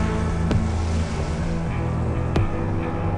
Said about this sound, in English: The rhythmic, repetitious sea